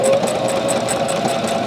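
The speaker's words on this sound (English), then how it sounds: "For this one, I'm going to be stitching down the middle." A sewing machine runs continuously, close and steady, with a fast even mechanical chatter and a constant hum as it stitches a straight line down the middle of a piece.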